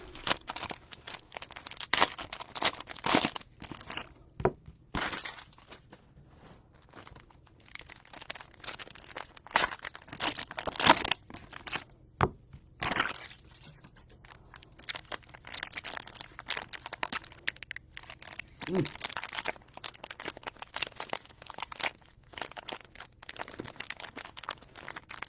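Cello packs of 2022 Score trading cards are torn open and crinkled, giving irregular bursts of plastic crackling and tearing over about 25 seconds, close and fairly loud.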